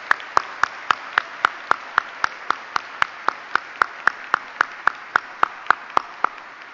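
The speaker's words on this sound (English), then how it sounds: "Let's give them another round of applause for their great work." Steady, evenly spaced handclaps ring out at a university convocation, about three per second, crisp and distinct over a soft room background.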